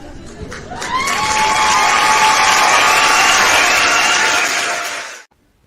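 Loud intro applause with a crowd cheering and screaming, swelling into a dense, sustained roar for several seconds before cutting off abruptly.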